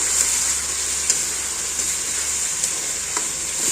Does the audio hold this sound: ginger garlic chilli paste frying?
yes